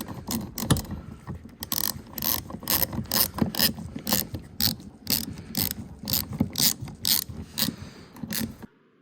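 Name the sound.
ratchet removing metric 5 Allen head bolt, Jeep Renegade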